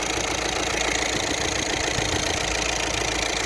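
A VW Caddy 2.0 engine idles steadily with a strange noise from the pistons, a dense continuous mechanical hum with a faint knocking texture throughout, loud and close with no talking.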